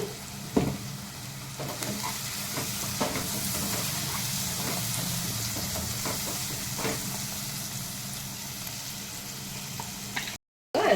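Food frying with turmeric in a pan, with a steady close sizzle and hiss throughout and occasional light scrapes and clinks of stirring over it, alone without talk.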